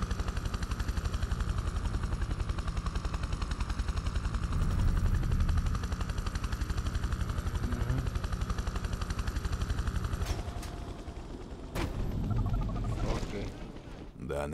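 Helicopter and gunfire in the video game Prototype 2, a steady rapid rotor chop throughout with bursts of shots and sharp impacts near the end, loud and continuous, with faint voices mixed in.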